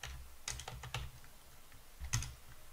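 Someone types a password on a computer keyboard in a quick, close run of key clicks with a brief pause, then a final sharper keystroke, in a quiet room.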